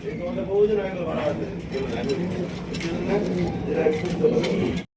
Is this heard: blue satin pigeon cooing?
yes